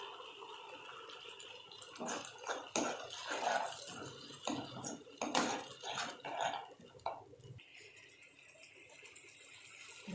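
Tomato, onion, pepper and cumin being stirred together in a pan, heard as irregular close clanks, rattles and scrapes of a utensil against metal with no talking.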